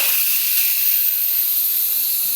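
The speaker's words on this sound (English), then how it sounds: "now I'm going to just let out whatever steam is left in there" Steam hisses steadily from the release valve of an Instant Pot Mini pressure cooker after cooking white rice, a loud, close, continuous high-pitched rush with no pauses.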